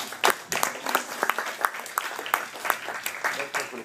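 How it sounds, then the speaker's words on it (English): Church audience giving a round of applause, scattered individual claps ringing out unevenly and fairly close, thinning in density over a few seconds. "Let's give those guys a round of applause."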